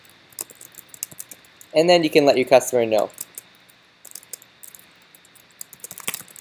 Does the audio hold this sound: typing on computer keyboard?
yes